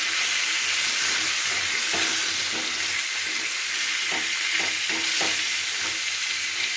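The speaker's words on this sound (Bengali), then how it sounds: "এবার পটলগুলোকে খুব ভালো করে ভেজে নেব।" Pointed gourd seasoned with salt and turmeric sizzles steadily in hot oil while a spatula stirs it, giving a continuous bright frying hiss broken by several short scraping strokes, close and fairly loud.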